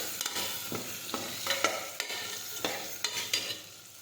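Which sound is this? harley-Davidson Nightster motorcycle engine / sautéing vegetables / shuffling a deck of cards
sautéing vegetables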